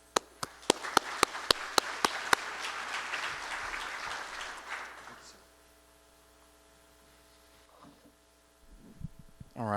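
An audience applauds to welcome a speaker at a wildlife conservation talk. About five seconds of close, sharp, irregular clapping tapers off into quiet room hum, with a faint shuffle near the end.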